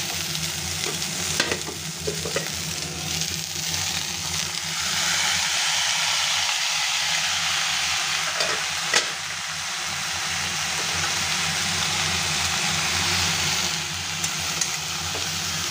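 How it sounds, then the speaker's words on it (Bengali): Prawns sizzle steadily as they fry in a pan for a Bengali prawn and potato dish seasoned with turmeric, a continuous close hiss with brief louder crackles and stirring, no talking. "এখানে চিংড়ি মাছটা ভাজা হচ্ছে"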